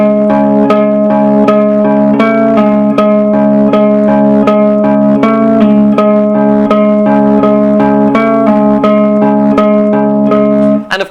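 Electric guitar slowly working through a riff, sustained chords ringing with regular picked attacks at a steady, unhurried pulse, loud and close with light effects, no talking until it cuts off at the end.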